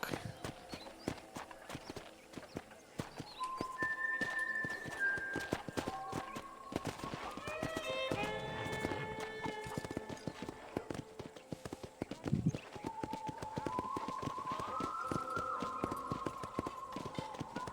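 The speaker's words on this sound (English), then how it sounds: "let's see if you can still ride a horse" Steady clip-clop of horse hooves trotting along in the video game Red Dead Redemption, with game music and ambient tones layered over it and a brief voice partway through.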